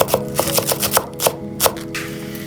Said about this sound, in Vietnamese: Đối với hành lá thì mình thái riêng phần gốc và phần thân hành ra, thái nhỏ